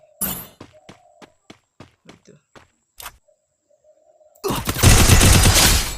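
Gunshots in a shooting video game: a series of sharp, evenly spaced single shots with brief tonal game sounds between them, then a loud, sustained burst of noise at the end, no voices.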